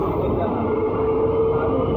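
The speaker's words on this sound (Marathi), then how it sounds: "बोरवली ट्रेनमध्ये चढलो आता" Steady rumble inside a Mumbai Borivali local train in the morning, a loud and unbroken hum with a faint whine running through it.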